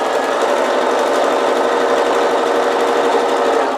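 A sewing machine runs steadily at close range, stitching a seam through several layers of fabric for a zip pouch, its fast, even mechanical whir continuing without a pause.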